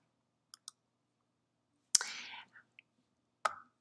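Two quick, soft computer mouse clicks sound close in a quiet room, followed by faint breathy rustles and a later short noise burst.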